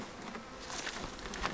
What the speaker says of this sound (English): a good bit of bees up in here.